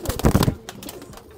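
Pigeons scuffle in a new cage, with a short burst of close, throaty cooing and rustling at the start, then quieter scuffling and faint wing movement.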